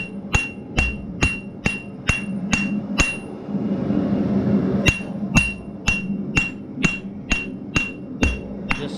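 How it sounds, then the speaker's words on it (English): Regular, ringing hammer blows on metal at an anvil while forging a meat turner, struck in quick, steady rhythm with a short pause in the middle. "I'm really not moving the hammer a lot"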